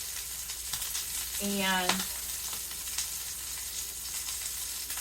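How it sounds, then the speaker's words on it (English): Sauerkraut sizzles in a frying pan with a steady, moderate crackle, while a voice briefly says a word and a short tonal scrape or squeak rises over it. "actually we're going to go ahead and get our sauerkraut in the pan first"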